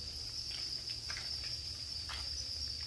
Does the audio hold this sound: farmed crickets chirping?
yes